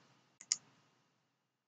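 A computer mouse clicks while someone works in 3D CAD modeling software: a quiet double click, two sharp ticks close together, then silence.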